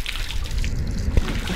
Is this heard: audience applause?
no